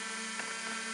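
Traxxas Aton quadcopter drone hovering after an automatic takeoff, a steady high-pitched whine of spinning propellers held at an even level throughout, close and loud with no talk.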